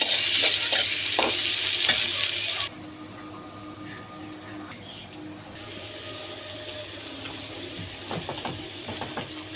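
Onion, garlic and green chili stir-fry in a pan, a loud sizzle that cuts down to a quieter hiss, with occasional stirring scrapes.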